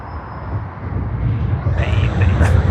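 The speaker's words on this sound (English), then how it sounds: "here we have another All Nippon Airways Boeing 787-9." An All Nippon Airways Boeing 787-9 arriving at Sydney Airport, a low, steady engine rumble that swells slightly as the jet approaches, with faint talk in the background.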